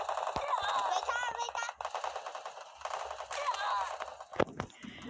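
Video game gunfire crackles in quick bursts and a few sharp, loud single shots, mixed with excited voices talking over the action.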